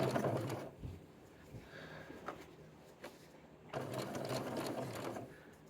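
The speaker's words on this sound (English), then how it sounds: "This curve is not exactly the easiest thing in the world to sew." A home sewing machine stitches a curved seam with a whirring motor and rapid needle clatter, running in two bursts with a quieter pause between them.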